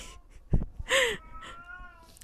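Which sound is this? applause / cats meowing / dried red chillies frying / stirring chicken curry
cats meowing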